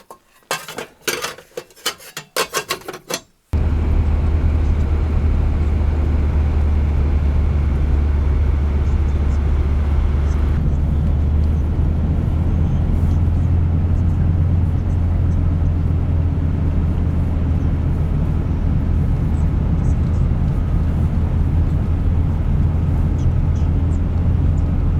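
A car drives along a road with a steady, loud low engine and road rumble, after a few seconds of clattering metallic handling noises at the start; no talking.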